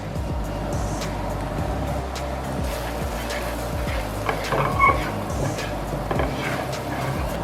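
Flour stirred into sizzling garlic in a pan gives a steady frying hiss with soft scraping from the stirring and a brief clink of a utensil partway through.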